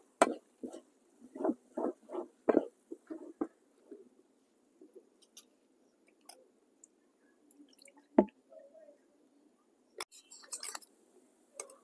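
Fresh chhana cheese mixed by hand for kacha golla sweets: soft, wet squishing pulses come in a quick close run at first, then thin out into sparse, quieter squelches and small clicks, with no talking.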